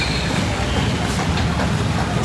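A train runs at Kankavli railway station, producing a continuous loud rumble and rattle that holds steady for the whole stretch.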